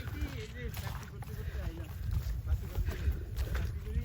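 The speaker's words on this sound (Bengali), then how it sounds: "নৌকা আসছে" A boat approaches on the river near a char at Bhagyakul, with a steady low rumble and wash over outdoor wind noise as people talk nearby.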